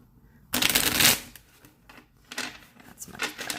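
A deck of oracle cards riffled and shuffled by hand, one loud burst of rapid flapping at the start followed by softer, intermittent shuffling and card slaps close to the microphone.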